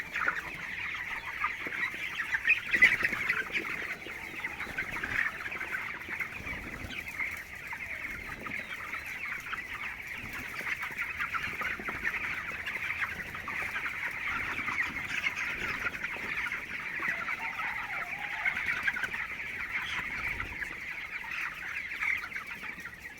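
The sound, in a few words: broiler chickens clucking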